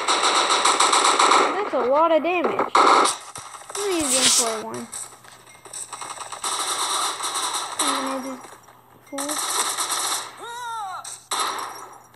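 Automatic rifle fire from AK-style weapons in the Bullet Force shooter game comes in rapid, loud bursts with clatter between them, under a player talking excitedly with a rising and falling pitch.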